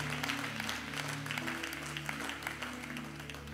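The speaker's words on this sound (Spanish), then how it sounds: "denle ese aplauso si es para el Señor, déselo con todo su corazón a Él" Congregation applauding in a church service, steady crowded clapping over a low sustained musical hum, moderately loud and continuous throughout.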